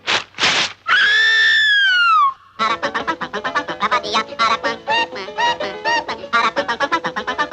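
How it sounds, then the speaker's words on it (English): The peculiar song of the Aracuan bird from The Three Caballeros: a few sharp squawks, a long wavering whistled cry, then a rapid chattering run of chirps and squeaks that keeps going. "he's called the Aracuan because of the peculiar song he sings"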